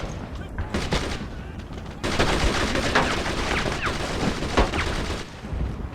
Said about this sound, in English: Start firing there! Keep shooting!